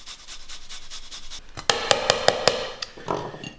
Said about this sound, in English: with a little microplane, just grate this into the salad.